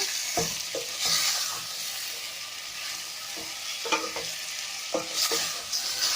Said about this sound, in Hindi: तो हमने हल्का सा फ्राई करेंगे।